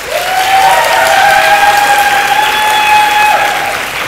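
Audience applause at a leadership seminar, a steady wash of clapping that swells and holds for several seconds, with a faint sustained tone running underneath.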